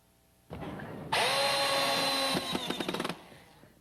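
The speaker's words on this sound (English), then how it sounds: "assembling and sawing to beat a deadline for showtime" Power tools drill and saw in bursts while volunteers assemble stage sets for the OK Mozart Festival in Oklahoma: a steady high whine runs, then breaks into a rapid stuttering series of short pulses before fading. No voices.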